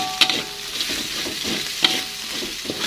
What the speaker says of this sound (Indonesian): tumis sampai bumbunya benar-benar matang ya